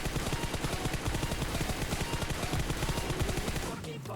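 Rapid gunfire rattles in the mobile battle-royale game PUBG Mobile, a dense stream of fast shots filling about four seconds at steady volume.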